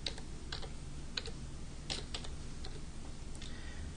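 Keys clacking on a computer keyboard as a command-line command is typed, in short irregular bursts of close, crisp keystrokes over a steady low background hum.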